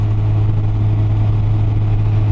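A Yamaha FJR1300 motorcycle engine pulls steadily in high gear while climbing a mountain pass near Bryce Canyon, a constant loud, low droning hum with wind rush and no pauses.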